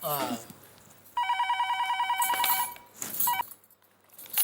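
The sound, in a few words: telephone ringing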